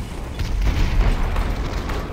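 A grenade detonates in the VR shooter Population: One, a muffled low boom that swells and rumbles for about two seconds at moderate distance, with no talk over it.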